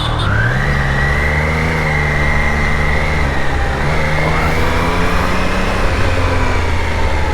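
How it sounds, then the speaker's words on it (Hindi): A Triumph Daytona 660 motorcycle with a liquid-cooled three-cylinder engine revs up and holds a steady, loud, close drone, pitch rising early then staying high with slight wavering throughout. "Triumph Daytona 660 3 cylinder liquid cool engine"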